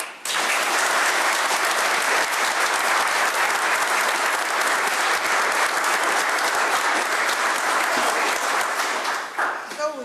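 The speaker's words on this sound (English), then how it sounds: "So we all applaud you." Sustained, dense applause fills a village board meeting room for the full stretch, loud and steady, tapering off at the very end.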